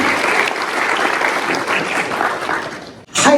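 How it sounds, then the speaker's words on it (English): Dense, sustained applause from a conference audience welcoming a keynote speaker on learning and AI, loud and even before cutting off abruptly near the end. "Can we have a round of applause for Jonathan?"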